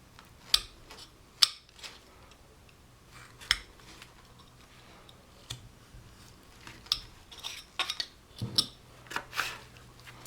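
A hand tool slices and scrapes into wood while a caricature figure is carved. Sharp, scattered clicks and taps of the blade come close by, irregular and fairly quiet, with a low steady hum underneath and no talk.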